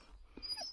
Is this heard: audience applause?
no